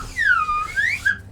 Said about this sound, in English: you actually have a fucking slide whistle